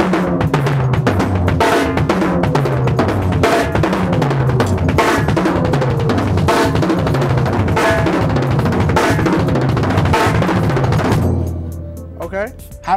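Fast drum licks played around the snare and toms, a dense, loud, continuous roll of hits for about eleven seconds before decaying into a final cymbal ring.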